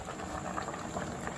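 Porridge water boils hard in a pot over a fire, a dense, even bubbling that holds steady and close throughout.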